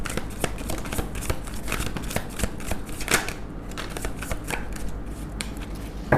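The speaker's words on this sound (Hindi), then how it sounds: "लास्ट शफल है ये।" A deck of tarot cards being shuffled, a continuous riffling and flicking rustle with rapid crisp slaps, close and steady for several seconds, with no talking over it.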